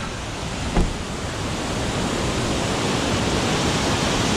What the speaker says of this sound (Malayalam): ഇനി ഇവിടെ ചെറിയ തോടുണ്ട്